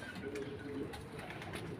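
Soft, low pigeon coos repeating nearby at a resort in Sharjah, over a quiet background murmur, without any speech.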